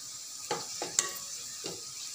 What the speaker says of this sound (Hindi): और हम मसाले को हल्का हम चला लेंगे क्योंकि मसाला हमारा पक जाना चाहिए।